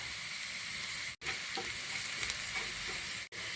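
Onions and garlic with mustard seeds sizzle in hot oil in a pan for Sri Lankan pol sambol, a steady close frying hiss broken by light stirring scrapes and two brief cut-outs.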